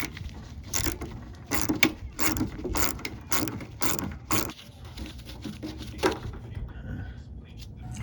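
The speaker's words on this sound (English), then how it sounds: "there's a 10mm bolt here we need to take off." A ratchet clicks in repeated rhythmic strokes while removing a 10mm bolt from the door trim of a Honda Civic, close and moderately loud, with faint low talk underneath.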